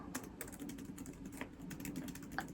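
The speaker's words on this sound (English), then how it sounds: "what do you think about typing? Is that something that you think is relaxing?" Quiet, close typing on a computer keyboard, a run of light irregular key clicks over a soft steady background hum, with no talk.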